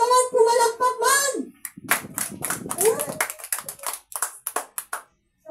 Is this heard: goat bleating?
no